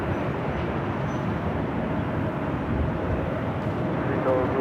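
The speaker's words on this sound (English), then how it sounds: "We do have a China Airlines cargo 777 freighter flying above us" China Airlines cargo Boeing 777 freighter passing overhead, a broad steady low roar of jet engine noise filling the whole stretch, with faint talk mixed in.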